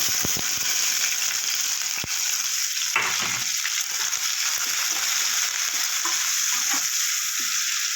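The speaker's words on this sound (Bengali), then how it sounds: "পেঁয়াজটা একটু ভেজে নেব" Chopped onion fries in a pan with a loud, continuous sizzle and crackle, steady and close, with occasional stirring scrapes and spatter.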